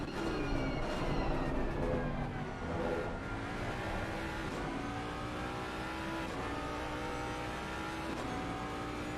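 A race car engine in Assetto Corsa Competizione during a sprint race at Oulton Park, droning and rising and falling through gear changes. Other cars can be heard faintly, and the sound is continuous and moderately loud.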